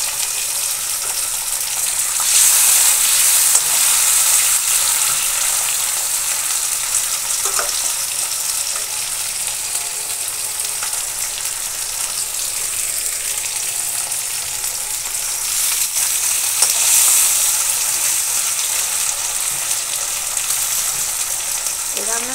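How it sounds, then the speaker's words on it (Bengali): Tomato and capsicum fry in oil in a wok with a steady, bright sizzle that swells briefly at moments of stirring, close and continuous with no talk over it. "একটু ভাজা হোক, একটু নরম হয়ে আসুক।"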